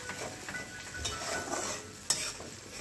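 A spoon scrapes and stirs in a pot while dinner cooks, with chicken kosa simmering and spices frying. The stirring is soft and close, with light clinks and a faint sizzle, and no talk.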